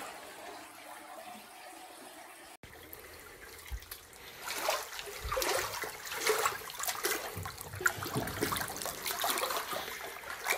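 Floodwater swirls and splashes around a person wading knee-deep near tractors, starting quiet and then turning into a louder, continuous rushing and sloshing.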